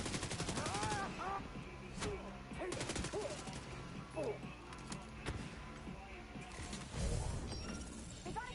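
Submachine gun fire from The Division 2 in realism mode, short bursts and single cracks scattered across a busy combat mix with a voice talking over it.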